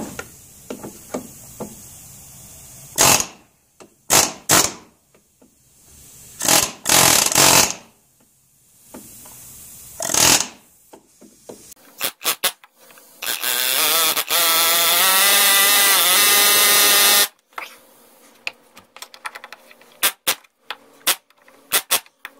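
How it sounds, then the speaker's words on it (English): Pneumatic air hammer rattling against a bolt on an Evinrude 40 HP outboard motor, several short loud bursts followed by one long sustained hammering run, then scattered knocks. "It's air hammer time."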